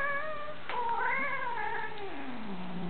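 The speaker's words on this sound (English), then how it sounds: "Get her to meow first." A cat gives a long, drawn-out meow that rises and then slides down into a low wail. It is close and fairly quiet.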